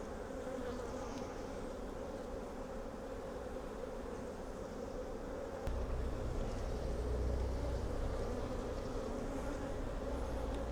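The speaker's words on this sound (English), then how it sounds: "The bees seem pretty gentle." Gentle honey bees hum steadily over brood frames in an open hive, a close, constant drone that swells slightly louder partway through.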